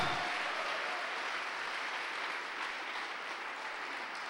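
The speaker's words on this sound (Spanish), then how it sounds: "Dale un fuerte aplauso a ese Señor." Church congregation giving a loud round of applause, a dense, continuous roar of many hands clapping that fills the whole stretch and eases off slightly near the end.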